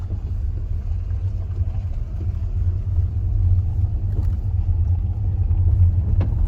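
A car with short suspension travel drives over rough off-road ground, giving a loud, steady low rumble with bumps and knocks throughout and no talk.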